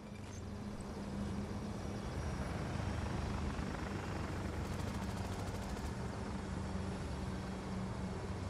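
Stealth helicopter flying in the video game Battlefield 2042, a dense, steady rotor and engine roar holding constant for several seconds with a brief rapid clatter partway through, no talking.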